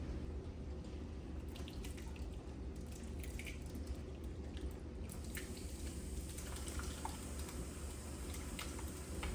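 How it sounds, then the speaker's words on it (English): Hot blackberry juice poured slowly through a strainer while making jelly gives a faint, steady trickle with soft dripping that continues throughout, no voices. "now I am going to slowly pour it into here, try not to burn myself and splatter everything."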